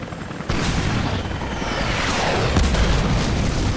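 Missile explosions from an armed attack helicopter in Rise of the Tomb Raider: a loud, continuous roar of booming blasts with crackling debris that builds midway and keeps rumbling throughout.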